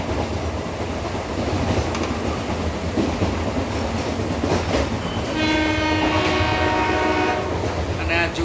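Inside a moving meter gauge train between Junagadh and Sasan Gir: a steady rumble and rattle of the carriage, with a train horn sounding in the latter half.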